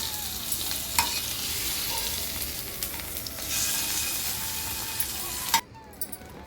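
Tamarind dry-roasting in an oil-free pan, with a steady gritty scrape and sizzle from stirring running throughout, a few sharper clinks along the way, and the sound dropping away near the end.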